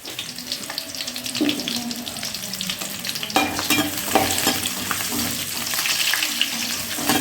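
Onions, green chillies and cumin fry in a pan, a steady broad sizzle running throughout with occasional scrapes of stirring, close and fairly loud, and no talking.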